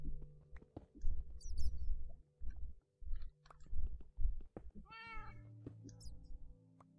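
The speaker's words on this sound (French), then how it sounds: "C'est moi ou j'entends un chat?" A cat meows in the Minecraft FTB Infinity modpack, a short harmonic mew near the five-second mark over a busy bed of game sounds, footsteps and chewing-like noises, with someone talking intermittently.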